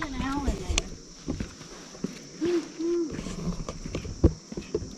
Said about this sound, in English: I don't know if it's the doves making that sound or pigeons, whatever they are.